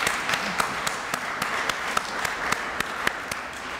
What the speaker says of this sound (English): let's have a round of applause for our current Manoogian professor.